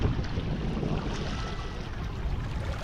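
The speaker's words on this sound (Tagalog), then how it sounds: "Yung alon hindi naman malakas, saktuan lang guys" Gentle sea waves wash in steadily at Baseco Beach in Manila, a continuous low rushing surf mixed with wind buffeting the microphone.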